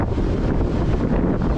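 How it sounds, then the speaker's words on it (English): Strong wind at Brora station buffets the microphone in a loud, continuous roar with gusty swells, filling the whole short stretch with no other sound standing out. "It's very windy here."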